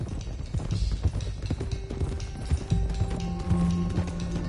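Horses gallop in Red Dead Redemption 2, with rapid, uneven hoofbeats thudding close and loud alongside game background sounds, and no speech.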